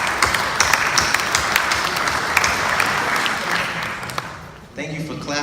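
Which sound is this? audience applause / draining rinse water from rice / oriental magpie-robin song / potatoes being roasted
audience applause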